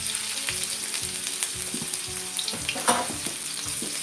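Garlic and ginger sizzling in hot oil for chicken curry fried rice, a loud continuous close-up frying hiss with rhythmic scraping stirs throughout, no speech.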